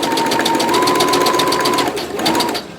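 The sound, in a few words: sewing machine stitching a grocery bag handle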